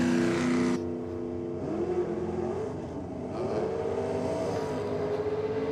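A no-prep drag racing car launches off the line at an old-school Sydney drag and burnout night, its engine roaring loud and close, then rising in pitch through successive gears as it pulls away.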